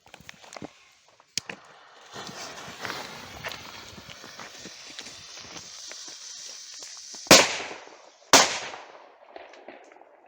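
Two sharp, loud P6A13 BOMB firecracker bangs go off about a second apart near the end, one in a tree, after a stretch of crackling, footsteps and outdoor rustling.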